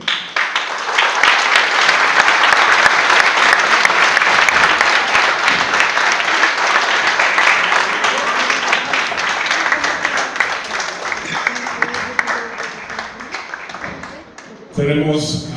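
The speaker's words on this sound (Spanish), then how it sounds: "quisiera llamarlos a todo el elenco para brindarles un fuerte aplauso" A theatre audience in Tuxpan applauds the cast with loud, sustained clapping that fills nearly fifteen seconds, then drops off abruptly as a voice begins speaking at the end.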